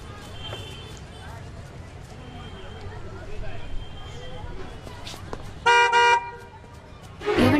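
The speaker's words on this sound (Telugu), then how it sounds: "ఆగున్న కార్ నుంచి హార్న్ కొడతారు ఎందుకండి?" A parked car sounds its horn on an empty road, with a short loud honk and a second blast near the end over faint street background and footsteps.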